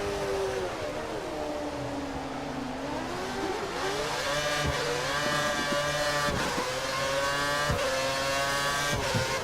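A Formula 1 race car in F1 2013 on the Shanghai circuit, its high-pitched engine screaming as it floors it out of corners, rising through gears with sharp shift drops, loud and close with no talking.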